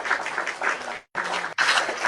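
An audience gives Oki a burst of dense, steady clapping that runs for about a second, cuts out briefly, then resumes. The applause ends in a final clear surge.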